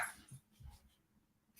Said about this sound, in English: Apologies for the barking.